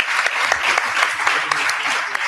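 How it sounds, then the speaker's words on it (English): Loud audience applause for speakers at the close of a public health conference session, dense continuous clapping from a crowd with a few sharper individual claps standing out. "let's give a big applause to our speakers and to the audience"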